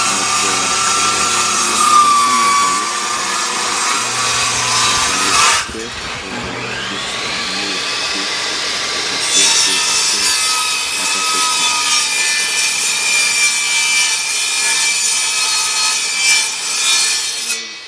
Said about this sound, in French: Là, c'est moi qui est en train de visser des pièces.